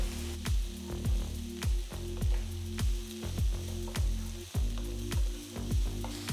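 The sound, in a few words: chopped tomatoes frying in a pan with garlic, ginger, green chillies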